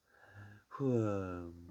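A narrator voices Toby yawning along in a bedtime tale, a soft breathy intake followed by a long voiced, falling yawn sound, close and gentle.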